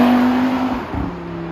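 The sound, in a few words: CUPRA Formentor VZ5 five-cylinder engine accelerating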